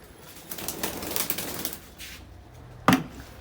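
Pigeons on a balcony, with soft rustling and fluttering movement, a faint coo-like sound, and a sharp brief knock near the end, quiet and close with no talking.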